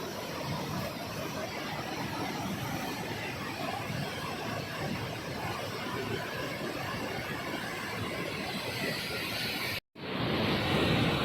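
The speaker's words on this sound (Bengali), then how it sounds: "নদীর গর্জনটা দেখ শুনতে পাচ্ছেন নিশ্চয়ই" A roaring mountain river in the monsoon-swollen Himalayan valley near Govindghat rushes as a dense, steady wash of water noise close by, cutting out briefly near the end before resuming.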